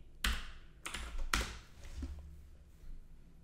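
Close computer keyboard typing code, three quick bursts of clicky keystrokes followed by softer scattered taps, with no talk.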